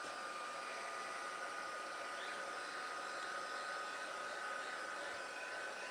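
A hair dryer blows steadily on a bubble wrap paper-craft piece, a constant loud whooshing hum that holds for the whole stretch, with no voices.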